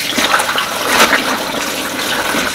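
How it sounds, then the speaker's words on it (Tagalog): Water pours steadily into a tub for rinsing laundry by hand, a loud close gushing rush that stays constant for a couple of seconds with no talking. "Damihan ko lang ng tubig pag last na."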